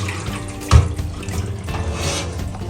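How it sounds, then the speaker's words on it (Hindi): Rinse water from washing chicken pours out into a sink in a kitchen: a steady splashing flow with one louder gush near the start, close and fairly loud. "इसका पानी हम फेंक देते हैं।"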